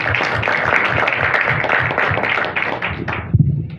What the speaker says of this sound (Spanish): Un fuerte aplauso para ellos